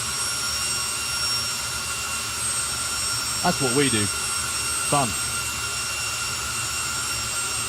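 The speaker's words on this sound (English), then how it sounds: "If you've seen jet cars before, don't watch the jet cars." A jet dragster at a drag racing festival produces a steady, high-pitched turbine whine with a broad roar beneath it that fills the whole stretch, while someone speaks briefly over it.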